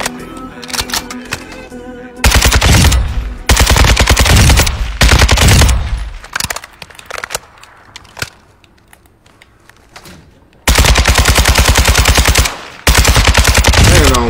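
Rapid automatic gunfire in a shooter video game, several loud sustained bursts of fast repeating shots separated by short gaps with quieter clicks and scattered single shots.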